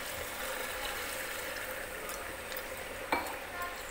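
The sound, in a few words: mutton roasting in milk for dudh korma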